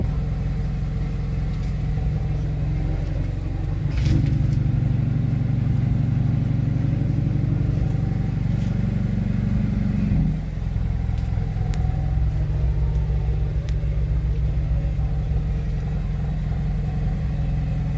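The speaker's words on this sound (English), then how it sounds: "I'm running up the car right now." A 2016 Mazda3 hatchback engine idles with a steady low rumble, rising briefly in pitch partway through as it revs, then settling back to an even idle.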